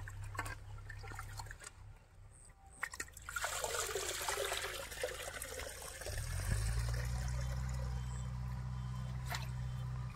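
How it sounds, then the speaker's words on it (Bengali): Rice is rinsed in shallow pond water, with soft trickling and sloshing splashes, quiet and close, joined by a low steady hum in the latter half. "এখন চালটা পুকুরের জল থেকে ধুয়ে নেব"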